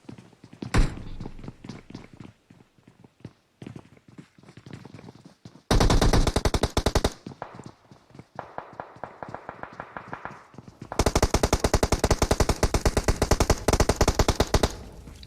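Loud bursts of rapid automatic gunfire ring out in a team shooter video game, with scattered single shots and thuds between them and two long, sustained volleys.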